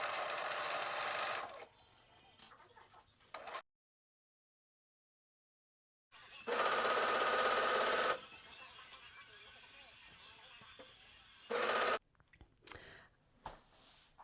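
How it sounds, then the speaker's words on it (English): A home sewing machine stitches pant back pieces together along the back crotch in two close, steady bursts separated by silence, then a short final run and some handling noise. "I'll also be able to take my back pieces and sew those together, right sides together along the back crotch."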